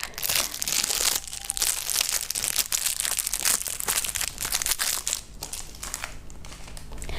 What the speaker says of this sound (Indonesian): ASMR membuka dental mirror.